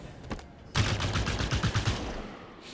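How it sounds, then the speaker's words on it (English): A plasma turret fires in Halo 5, a fast stream of sharp repeated energy shots starting abruptly after a few faint pops and continuing for about two seconds. "And of course, plasma turret."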